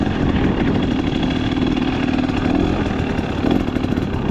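A KTM XCW 300 two-stroke enduro motorcycle engine runs continuously in first gear, a loud, close, steady buzzing drone with slight swells and no speech.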